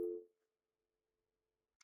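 A steady tone on a Cisco SPA525G2 IP phone's outside line, a single continuous note lasting over a second after a brief louder onset, fairly quiet and alone, ending with a short click.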